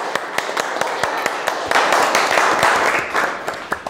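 A small group claps for Dr. Miguel Ángel Bonal and his children, with sparse, uneven hand claps running steadily at moderate loudness and close by, sounding like a modest gathering rather than a large crowd.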